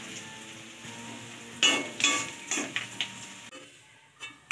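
Onions fry in a pan in a home kitchen with a soft, low sizzle, broken by several sharp clinks and scrapes of a utensil against the pan.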